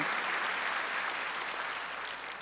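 The congregation at a Korean church's Sunday worship service claps together. The clapping is steady and continuous and fills the room evenly from start to finish, with no voices heard above it.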